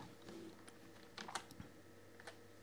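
Data being typed on a computer keyboard into genealogy software, a sparse run of soft, quiet key clicks with a few sharper taps, close by in a quiet room.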